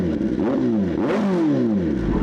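Kawasaki ZX10R sportbike with a stage 2 build and full exhaust revving hard, loud and close, the engine note climbing and falling in several quick throttle blips over a steady low rumble.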